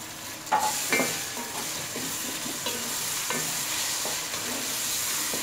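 Tomatoes fry in hot oil for a beef masala pulao, giving a steady close sizzle with clinking, scraping stirring strokes throughout and no voices.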